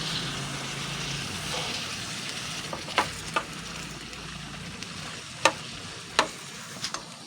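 Ginisa mix sautéing in a pan, a steady soft sizzle with a few sharp clinks of a utensil against the pan scattered over it, fairly quiet and close.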